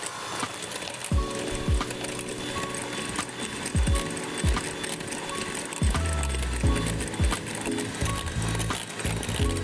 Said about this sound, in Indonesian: whipping cream ini kita kocok menggunakan hand mixer hingga soft peak seperti ini